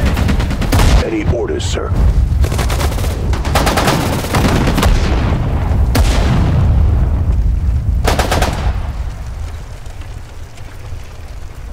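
Machine gun fire crackles in Sudden Strike 4 during the Pacific War Battle of Saipan, with sustained loud bursts and booming impacts. A unit voice speaks briefly over the combat.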